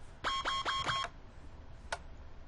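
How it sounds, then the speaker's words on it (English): Repeated electronic alarm tone in the Prepar3D flight simulator, a speed brake warning during approach: four quick evenly spaced beeps in a row, then a single beep about a second later, clear against a quiet background. "I believe that was an alarm for the speed brake"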